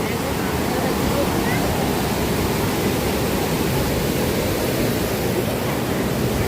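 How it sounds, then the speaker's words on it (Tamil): Steady, loud roar of water pouring down a waterfall in a forest, a dense continuous rush that fills the whole clip without pause, with some faint voices mixed in beneath the noise. "பாருங்கள், இது வந்து சீதா வந்து குளிக்கிறதுக்கு நீர்வீழ்ச்சி போல"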